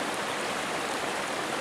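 Water rushes steadily down a hiking trail on Mt. Mansfield, a dense, even broadband wash close by with no breaks and no voices.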